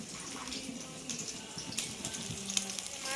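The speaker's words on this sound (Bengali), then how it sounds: "এখানে মা মশলাটা কষাচ্ছে মশলা বলতে সব কিছু কুচোনো আর কি" Chopped spice mix fried in a pan, giving a soft continuous sizzle with faint scraping and stirring noises, close and fairly quiet.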